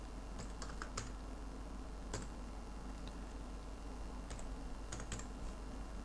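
Typing on a computer keyboard while entering an IP address, heard as scattered light key clicks in small bursts and single taps, fairly faint over a steady low hum, with no talking.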